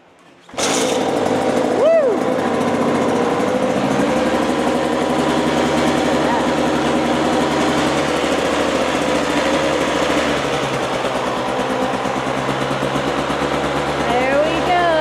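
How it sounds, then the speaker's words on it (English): A KTM 85SX dirt bike engine fires up after a kickstart and keeps running loud and steady with a buzzing two-stroke idle, briefly revving near the start, while people talk over it. "I have a problem with kickstarting bikes."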